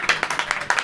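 A congregation at a Hindi church sermon claps in a brief, steady burst of handclaps, close and moderately loud, with no voice over it.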